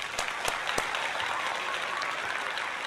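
A round of applause sound effect plays on a baseball play-by-play live stream for a Phillies versus Padres game, dense steady clapping with a few sharp claps near the start, loud and continuous.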